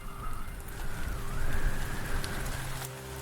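Steady heavy rain hiss with a low rumbling undertone, continuous and dense throughout, like a storm pouring down.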